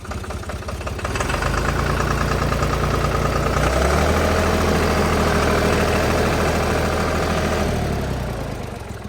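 A tractor engine, New Holland, Arjun, Deutz-Fahr or Jivo, revs up, holds a loud, steady, rattling roar for several seconds, then winds back down.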